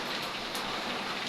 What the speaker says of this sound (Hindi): इतनी तेज बारिश हो रही है ना